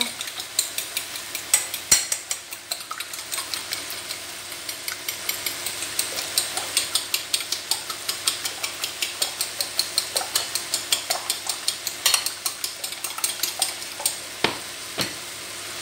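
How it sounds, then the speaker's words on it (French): Eggs seasoned with salt and pepper are beaten for an omelette for a pea and lardon quiche, a fast, regular clicking of utensil against bowl repeating steadily at close range for the whole stretch. "Et je vais battre ça en omelette."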